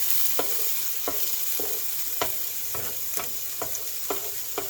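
Mushrooms, onions and jalapenos sizzling on a flat griddle while a spatula pushes them aside: a steady hiss broken by about nine sharp metal scrapes at a loose, even pace.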